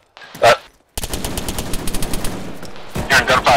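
Rapid automatic gunfire from the Arma 3 military shooter, a sustained burst of loud close shots, preceded by a brief voice over radio-like background and ending with talk.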